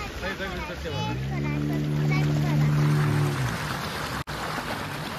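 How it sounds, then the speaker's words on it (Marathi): A party kalav boat approaches across the water near mangroves in Vengurla, Khavane, its engine a steady droning hum that swells over a few seconds while a person talks over it. "अजून एक कलाव बोट आलेली आहे बघा"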